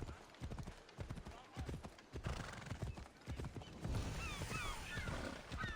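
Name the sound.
horse in the video game Assassin's Creed Odyssey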